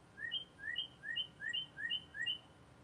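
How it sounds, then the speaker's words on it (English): Outdoors at a summer handmade market, a bird repeats a two-note chirping call about six times in an even rhythm, clear but moderately distant over a quiet background. "You hear the birds calling me?"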